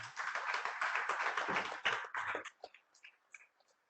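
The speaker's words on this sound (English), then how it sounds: "Please give him a big round of applause." A small audience claps at the inaugural session of a college cultural programme, a fairly close burst of mixed claps for about two and a half seconds before trailing off into a few scattered taps.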